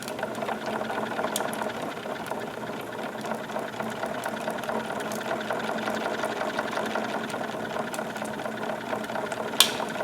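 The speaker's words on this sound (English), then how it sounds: "now we've done got ourselves a good running steam engine" A Wilesco D22 model steam engine runs steadily, giving a fast, even mechanical chatter of pistons and gears with a constant hiss, close and moderate in level, with one sharp click near the end.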